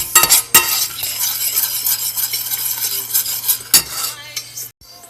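Broccoli sautés in butter over medium heat, giving a low sizzle under repeated clanks and scrapes of a utensil against the pan as it is stirred, with a steady hum beneath and no talk.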